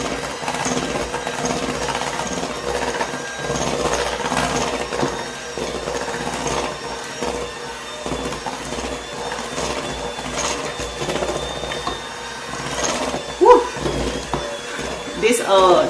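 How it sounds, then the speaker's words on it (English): An electric hand mixer beats muffin batter in a home kitchen, a steady, loud whirring buzz that runs throughout, with voices talking over it. "This hand mixer is wearing my arm out."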